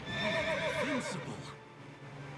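Horse neigh in the Fire Emblem Awakening video game, a short, clear whinny with a wavering, descending pitch, heard alone.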